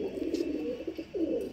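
Pigeon cooing close by, a low rolling coo repeated in two phrases with a brief pause between; the bird has a fully closed tail, and nobody speaks.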